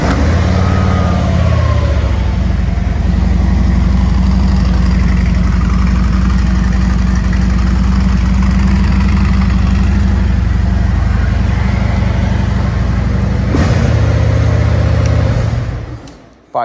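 A 2017 Harley FreeWheeler trike with factory exhaust and air filter idles close by in a deep, steady, throbbing rumble, with a slight rev partway through before the sound cuts off at the end.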